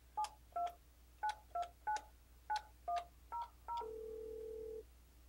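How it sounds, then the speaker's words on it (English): Touch-tone DTMF beeps from an Alcatel-Lucent ALE-300 office phone: ten short, evenly paced dialing tones, then one longer steady tone, clean and alone over faint hum. "to dial an outside line, I need to start by dialing 9 followed by the number I'd like to reach"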